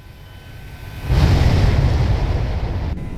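An Airbus A321 in a flight simulator takes off, its engine roar swelling into a loud, broad rumble that holds steady with no voices over it.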